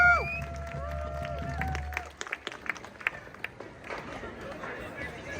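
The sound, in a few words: crowd applause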